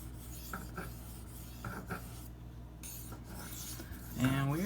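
Spyderco Endura knife with a K390 steel blade drawn across a sharpening stone, several short raspy strokes in a quiet room, then a louder scrape at the end.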